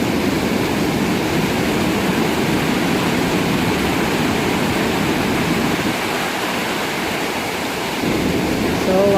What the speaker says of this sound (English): that water is pretty deep, and it's gushing